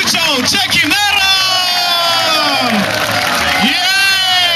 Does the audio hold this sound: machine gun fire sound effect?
no